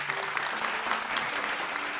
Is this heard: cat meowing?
no